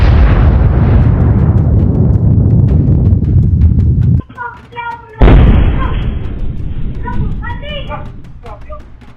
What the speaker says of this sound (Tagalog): Lakas ng pagyanig matapos pumutok ng Mount Canlaon